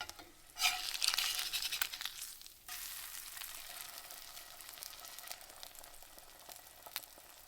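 An egg sizzling and frying in a seasoned cast iron skillet, with a burst of crackling as it lands, then a steady close hiss that carries on without speech.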